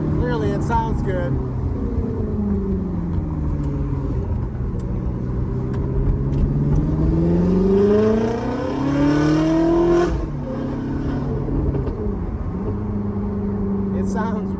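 Loud, close engine of a Ferrari F430 with headers and exhaust, climbing and sweeping through revs in long pulls, peaking before a sharp lift-off, then settling to a steadier drone while someone talks over it.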